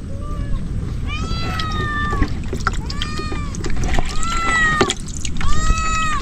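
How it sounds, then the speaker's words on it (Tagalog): Repeated insistent meows from a cat, about five rising-and-falling cries close by, over a steady background of running and splashing water in a rural outdoor setting. "Umihingi yung pusa."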